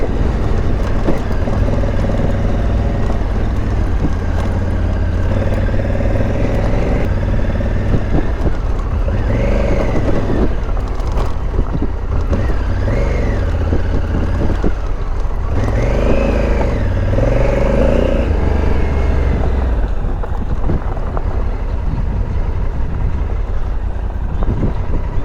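A 2020 Honda Africa Twin motorcycle crawls over rocky hilltops in first gear, its engine droning loud and steady, rising and falling with revs alongside rough wind noise throughout.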